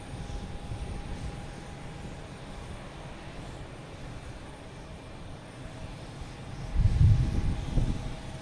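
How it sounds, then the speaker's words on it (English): A JetBlue airliner arriving from Nantucket at Boston Logan Airport, a steady broadband engine roar at moderate distance that swells louder near the end as it passes closer. "JetBlue coming in from Nantucket"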